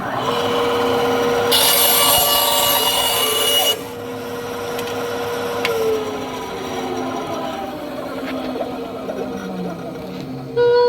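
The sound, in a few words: trimming a wooden flute to tune it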